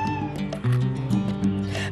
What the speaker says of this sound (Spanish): la gata y sus gatos salvan el umbral